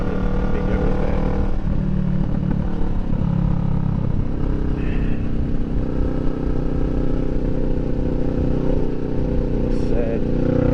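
Kawasaki Vulcan 650 S motorcycle on a road ride, its engine droning steadily and loudly throughout with wind rush and some rattle.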